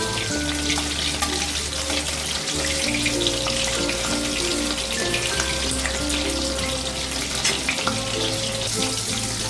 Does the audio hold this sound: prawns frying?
yes